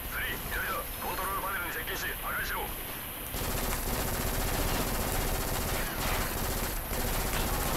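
Dense, continuous automatic gunfire from the first-person shooter game BLACK rattles loudly for the whole stretch, growing heavier partway through, with someone talking excitedly over the opening seconds.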